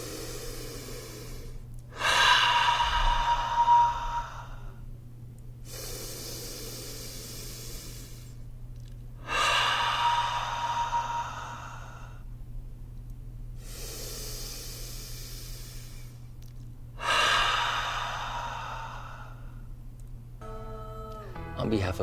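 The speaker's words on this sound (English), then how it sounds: "In through the nose, 3 breaths." A group inhales deeply through their noses in three long, hissing breaths, each separated by quiet pauses, over a low steady hum in a room.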